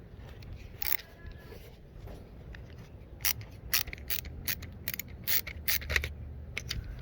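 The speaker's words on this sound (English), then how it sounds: "what you want to do is just loosen up those 2 screws" Small screws on a 2013 Mercedes-Benz C204 fuel door lock mechanism are loosened by hand, producing close, faint scattered clicks and ratcheting ticks in bursts.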